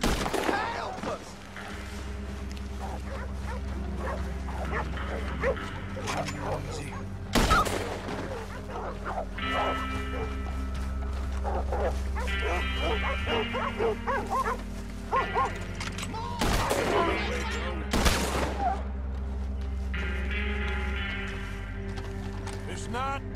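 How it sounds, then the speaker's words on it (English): Dogs in the Red Dead Redemption 2 mission The Wisdom of the Elders bark in several sharp bursts over horse hooves and game music. Voices and a few loud impacts are mixed in. "It's just dogs gone crazy."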